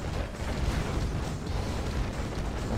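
Cannon fire in the Red Alert 2 real-time strategy game comes as a dense, continuous roar of blasts and rumbling booms, loud and unbroken for nearly three seconds.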